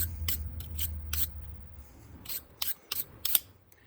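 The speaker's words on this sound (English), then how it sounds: "you can hit it with a wire brush and do it by hand" A hand wire brush scrubbing the threads of a rusty bolt from a 1994–2002 Dodge Ram front shock, in short sharp scratching strokes, several quick rasps spaced irregularly, close and fairly quiet.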